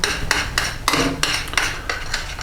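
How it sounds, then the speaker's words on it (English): A spoon mixing milk into banana in a bowl for banana bread batter, a quick run of clinking metal strikes against the bowl at a steady, slightly uneven rhythm, close and clear. "So if we just mix the milk in with the banana"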